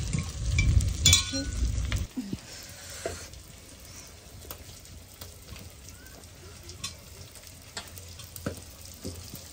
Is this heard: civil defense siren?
no